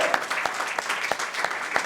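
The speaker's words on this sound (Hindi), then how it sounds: "ताली बजाकर परमेश्वर का धन्यवाद करें।" A church congregation claps in thanks to God, a dense, steady patter of hands from a gathered crowd with a few sharper slaps standing out; no voices over it.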